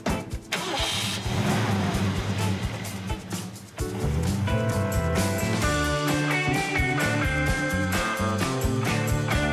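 A 1970 Mercury Cougar's big V8 cranks and catches, stumbles briefly, then roars to life and settles into a loud, rumbling idle with music playing alongside.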